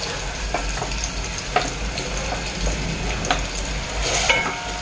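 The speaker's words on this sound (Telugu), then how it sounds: "ఉల్లిపాయలు ఇప్పుడు దోరగా వేగిపోయాయండి" Thinly sliced onions frying with whole garam masala in a rice cooker for chicken biryani make a dense, continuous sizzle, with stirring scrapes throughout and a low steady hum underneath, close and fairly loud, with no talk.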